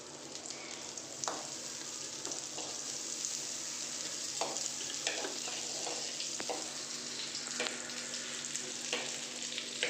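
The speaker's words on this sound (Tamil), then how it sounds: "உருகிடுச்சு வெண்ணெய்" Butter melting in a pan, producing a constant close sizzling hiss with light crackles and soft scraping stirs scattered through it.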